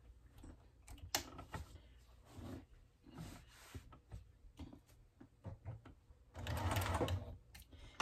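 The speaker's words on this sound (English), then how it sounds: "now I try to backstitch. I start quilting in the batting and I backstitch just to secure my stitching" Sewing machine quilting through batting on a mini quilt, with short backstitching bursts; an uneven, clattering run of needle stitches at moderate level that swells into a louder, sustained sewing stretch near the end.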